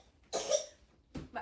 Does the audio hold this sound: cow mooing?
no